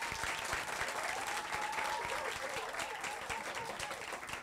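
Audience applause fills a singing contest hall, a dense steady clapping from a crowd that continues throughout without pause.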